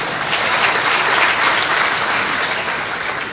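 A large audience at a public speech breaks into sustained applause, a thick, even roar of clapping hands holding steady at full strength before easing slightly at the end.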